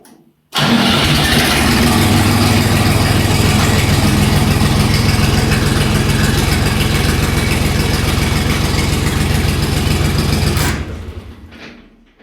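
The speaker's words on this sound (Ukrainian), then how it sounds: "Пробуємо заводити." A mini tractor engine cranks and catches, then runs at a loud, steady idle for about ten seconds before it is switched off and winds down.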